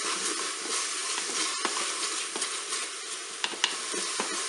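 Spaghetti forestière ingredients with parsley and chives are stirred in a Cookeo multicooker pot, a continuous bright hiss of sizzling broken by soft scraping strokes and a couple of sharper taps near the end, close and without talking.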